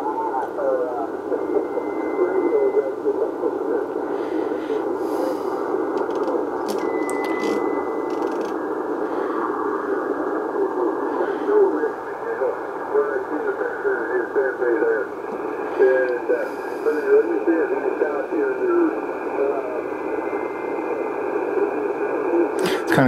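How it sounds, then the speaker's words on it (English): Yaesu FT DX 3000 amateur radio receiving on the 20 meter band, a steady hiss of static carrying faint warbling voices and signals that fade in and out, with occasional whistling tones and clicks. "I can actually hear stuff on 20 meters where I couldn't hear anything before."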